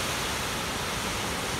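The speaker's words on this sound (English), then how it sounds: "Look at that amazing waterfall" A waterfall in a mountain gorge south of Puerto Vallarta rushes in a steady, dense, even roar that fills the whole clip with no breaks, voices or other sounds.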